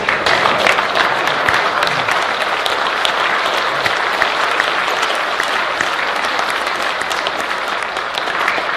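Sustained applause from a standing audience at a Grand Lodge of Indiana Founders' Day gathering, dense and steady throughout with no break.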